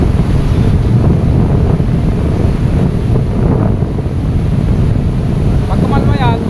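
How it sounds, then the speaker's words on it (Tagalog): Ocean waves rolling onto the shore under strong wind, a loud, steady roar and wash with heavy wind buffeting on the microphone. "Ang mahiwagang alon."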